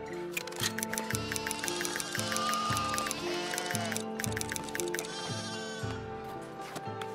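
Several sheep spawned in a farming video game bleat repeatedly in a dense, overlapping chorus over a steady rhythmic musical backing, loud and close throughout.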